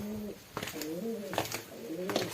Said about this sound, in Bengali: এখানে পায়রা টায়রা অনেক আছে,